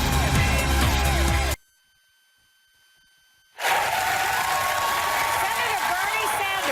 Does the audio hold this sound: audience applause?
yes